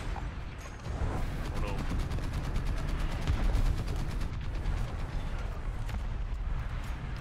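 Rapid machine-gun fire and shell impacts rattle against an ISU-152 tank destroyer in War Thunder, a dense rapid clatter over low engine rumble lasting several seconds, with a player talking over it.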